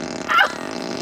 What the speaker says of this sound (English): So that's a whoopee cushion.